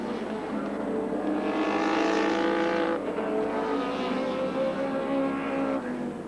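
Touring race cars at the 1986 Castrol 500 at Sandown Park, engines roaring and revving as they pass, a continuous loud, rising and falling engine note with gear changes over several seconds.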